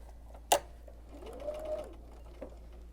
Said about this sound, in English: I'm going to start quilting again